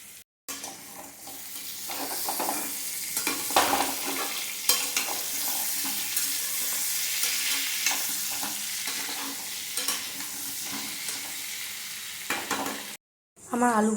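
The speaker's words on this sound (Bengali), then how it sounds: "আলুটা লাল লাল করে ভেজে নিচ্ছি" Potato pieces frying in oil for a chicken masala, a steady broadband sizzle with occasional stirring clatter, near and continuous, briefly cutting out near the end.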